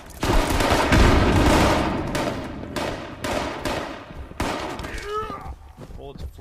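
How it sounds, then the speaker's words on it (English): Gunfire in the Fallout 76 video game on PS4: dense, loud bursts of automatic shots that fade toward the end. A voice talks over the shooting. "Bullets are flying everywhere."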